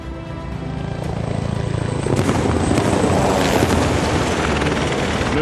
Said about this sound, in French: L'hélicoptère d'attaque du sous-groupement va prendre l'ennemi à son compte et manœuvrer pour le détruire.